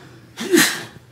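A single short sneeze, close and fairly loud, a breathy burst rising quickly and fading within a second.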